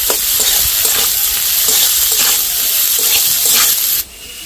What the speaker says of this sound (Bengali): সবকিছু একসাথে দিয়ে বেশ কিছুক্ষণ ধরে ভালো করে ভেজে নেব